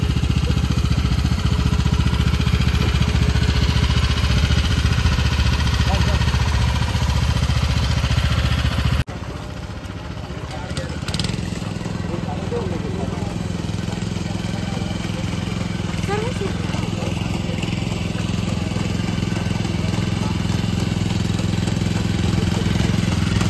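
A rice transplanting machine's engine drones loud and steady in a paddy field in the Kokan region, running continuously with a brief dip partway through before settling back into a constant rumble.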